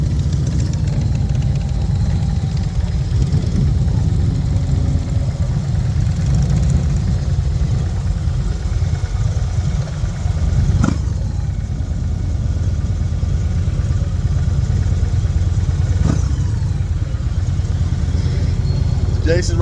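Several motorcycles idle and pull away together at the start of a riding club ride, a steady low engine rumble under people talking nearby.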